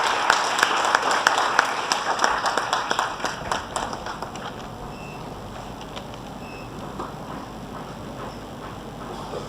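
Audience applause welcoming a guest speaker at an academic conference session, a dense burst of clapping that starts loud and gradually thins and fades over several seconds.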